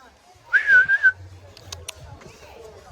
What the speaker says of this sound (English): it responded to my whistle